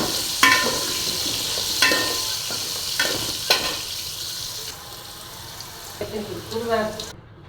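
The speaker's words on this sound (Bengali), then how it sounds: "তো তারপর সুন্দর করে আমি আলুটা ভেজে নিব।" Potato pieces seasoned with salt and turmeric fry in oil, a soft continuous sizzle punctuated by several sharp utensil clatters and stirring sounds.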